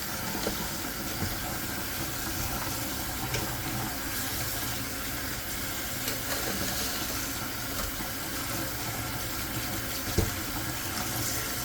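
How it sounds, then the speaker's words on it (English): Running water from a kitchen tap rinsing salt off sliced cucumbers for bread and butter pickles, a steady even splashing flow throughout with no talking. "Rinse all the salt and let it drain."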